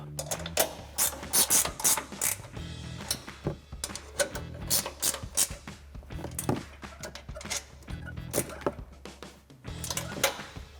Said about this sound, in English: You can grab our 15 millimeter ratcheting wrench, and we're actually gonna tighten those 3 down up top.